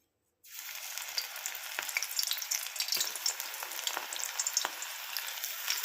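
Onion pakodi batter dropped into hot oil bursts into a loud, steady sizzle that starts abruptly after a brief silence and crackles on without pause, with scattered pops as more pieces go in.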